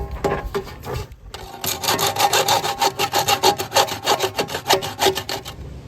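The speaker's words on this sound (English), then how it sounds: "for the lower holes, I'll have to get in there with a 1/2 round file" A half round file rasps at vent holes in a metal hobo stove, its rhythmic back-and-forth strokes loud and close, picking up pace after a short pause.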